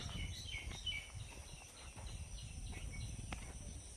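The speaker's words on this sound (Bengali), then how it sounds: "সবসময় পাখির কোলাহল," Birds chirp and call faintly in the Sundarbans forest, scattered short tweets over a soft background hum of insects, distant rather than close.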